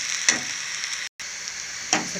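Ivy gourd curry with chilli powder sizzling in a pan, stirred with a couple of distinct scraping strokes over a soft, continuous fry.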